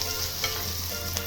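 Finely chopped onion fries in oil in a pan while cooking a bitter gourd dish, a brief soft steady sizzle with a faint clink or two, quiet and without speech.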